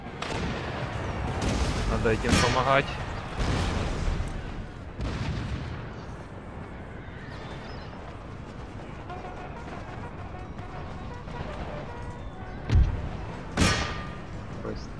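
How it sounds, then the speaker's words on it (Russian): Cannon fire from an Empire: Total War battle, with a loud boom near the start and more bursts near the end over a steady battlefield din, while someone talks in Russian. "Где тут пушка? Ядром стреляет."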